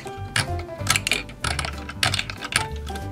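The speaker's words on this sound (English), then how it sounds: "First, I have to wind up the hose." A toy fire truck's hose reel being wound up gives a series of quick plastic clicking, ratcheting bursts in short irregular clusters, close and fairly quiet, with no voices.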